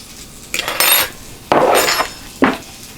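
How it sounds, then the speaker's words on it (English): Metal fork dropped beside a George Foreman grill, three sharp clattering impacts close by, each ringing briefly before fading, no voices. "I dropped your fork."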